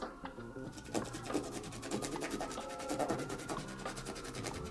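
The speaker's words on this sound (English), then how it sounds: "I get more space to basically like scrub the brush" A makeup brush scrubs rapidly back and forth across a textured silicone cleaning mat, giving a close, steady, rhythmic rubbing and squelching with no talking.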